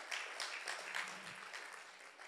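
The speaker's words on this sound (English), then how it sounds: "Let's give the Lord a clap of praise for that." Church congregation clapping in praise during a service, a moderate burst of many hands that is strongest early and then fades somewhat, heard at a distance.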